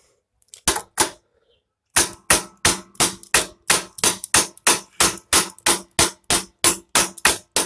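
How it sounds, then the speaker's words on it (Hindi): Sharp, loud hammer taps on a Bajaj Boxer motorcycle gear lever: two blows, a pause, then a steady run of evenly spaced metallic strikes close by. "फिर इसको किसी चीज़ से ठोकना है धीरे धीरे"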